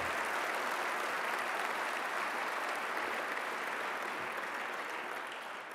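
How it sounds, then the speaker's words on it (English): Sustained audience applause filling a hall at a homecoming ceremony for returning Red Bulls soldiers, a dense steady wash of many hands that holds level and only eases slightly at the very end, with no talk over it. "they deserve the applause."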